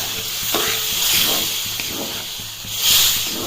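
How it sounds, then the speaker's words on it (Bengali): Water from boiled peas hits a hot pan for ghugni, producing a loud broad steaming hiss that swells and fades in waves, close up, with soft stirring scrapes beneath and no voices. "তো মটর সেদ্ধ করে রাখা জলটা মা এর মধ্যে দিয়ে দিল।"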